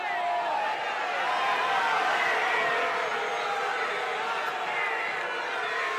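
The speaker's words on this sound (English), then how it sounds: "Crowd getting involved," Crowd noise building at a college Big 12 wrestling match in the final seconds of a 157-pound bout, a loud continuous roar of cheering and yelling filling the arena with no break.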